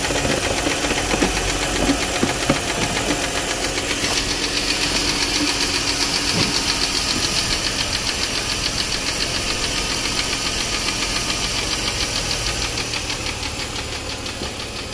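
Running engine of a 2009 Mercedes-Benz ML350, a loud, steady mechanical roar with a ticking, knocking texture and broad hiss, close to the microphone and without speech.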